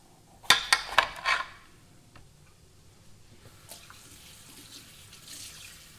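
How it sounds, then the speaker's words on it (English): Bell peppers being cut in half get rinsed under a kitchen tap, opening with a few sharp clatters against the sink, then a soft, steady splash of running water that stays faint to the end. "we'll go ahead and give these guys a rinse here"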